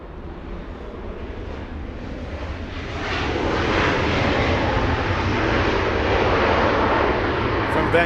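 An Air Canada Boeing 737 MAX 8 jet comes in to land at Los Angeles International Airport, a broad roaring engine rumble that grows louder and holds steady, with wind buffeting the microphone.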